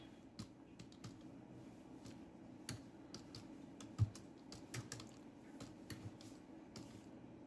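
Quiet, close computer keyboard typing as code is written, with irregular clusters of light key clicks and short pauses between them, no voices.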